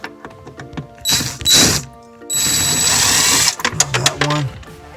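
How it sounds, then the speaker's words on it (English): Cordless drill whirring in short bursts as it backs bolts out of a refrigerator ice maker, with clicks and clunks of handling between runs, close and loud. "Get my drill."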